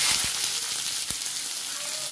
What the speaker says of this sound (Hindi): प्याज को गोल्डन ब्राउन होने तक भूनेंगे